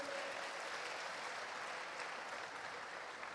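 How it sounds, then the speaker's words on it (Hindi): An audience at a youth stage program welcomes child performers with steady, even applause that holds throughout, fairly distant and soft. "जोरदार तालियों के साथ इनका स्वागत करें"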